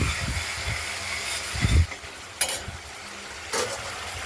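A spice paste of cumin, green chilli and ginger is stirred in a hot pan for a rui fish curry. Faint, steady sizzling carries a few louder scraping stirs.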